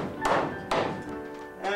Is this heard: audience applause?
no